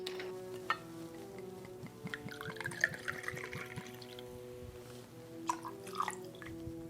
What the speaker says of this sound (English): Next, we're going to do an ounce of vanilla vodka.